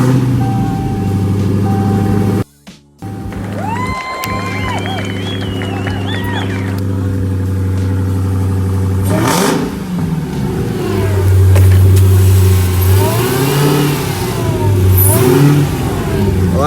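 Dodge Hellcat V8 with a newly installed intake mod, heard up close as a loud, steady engine drone with a brief cut. It then swells into a stronger revving roar that holds through the rest of the clip.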